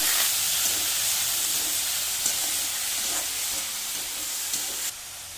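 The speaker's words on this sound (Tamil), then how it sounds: "இப்போ இந்த ஸ்ப்ரிங் ஆனியனை போட்டுவிடலாம்." Chopped spring onion with green chili and a little turmeric sizzles in a hot pan, a steady close hiss with soft stirring scrapes throughout, cutting off abruptly near the end.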